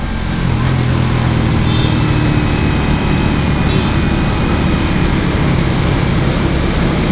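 A Suzuki GSX-R150 motorcycle engine held at a steady 5000 rpm, a loud, continuous broadband drone with a low rumble and no pauses.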